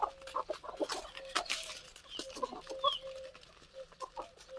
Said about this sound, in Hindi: तो ये देसी मुर्गी है।